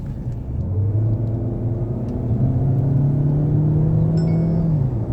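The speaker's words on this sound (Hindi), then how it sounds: "हाँ, let's do our little pull and see the acceleration." A Mahindra XUV 7XO petrol automatic pulls hard under acceleration, its engine note rising steadily from a low drone into a loud, sustained whirring rumble heard from inside the cabin, with no talk over it.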